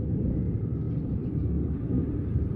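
A deep, continuous rumble of a fighter jet far off during training flights over Germany, low and steady, filling the air without any distinct peaks.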